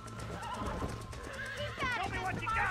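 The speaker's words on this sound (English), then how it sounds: "Alright, stop trying to buck me off, bro. Calm down. Calm down, horse." A horse neighs and whinnies while bucking in the Red Dead Redemption 2 video game, with hooves clattering underneath, the shrill whinny rising toward the end and someone talking over the game audio.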